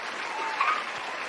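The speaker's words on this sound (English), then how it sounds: "Hold on, I got some applause." Brief, close applause from the audience at a comedy pop-up show, a short burst of dense clapping lasting just over a second.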